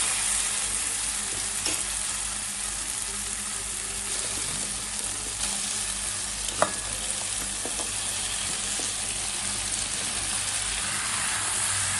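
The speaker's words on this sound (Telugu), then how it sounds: "అంతా కలిసే విధంగా కలిపి ఒక రెండు నిమిషాలు బెండకాయలు ఆయిల్లో తగ్గే వరకు" Okra pieces frying in oil while being stirred, a loud, dense, continuous sizzle heard up close with occasional scraping and clinking from the stirring, no voices.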